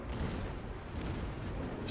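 Naval gunfire in the World of Warships video game rolls on as a dense, continuous low-pitched rumble of blasts and booms with no clear separate shots.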